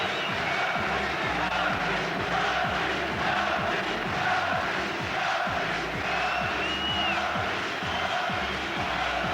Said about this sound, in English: The crowd here are certainly enjoying every moment of this.